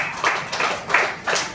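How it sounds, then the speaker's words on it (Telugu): A church congregation clapping in unison during a Sunday service, four evenly spaced bursts of hand claps, fairly close and lively. "అందరూ చప్పట్లు కొట్టి దేవుని మహిమ పరుద్దాం"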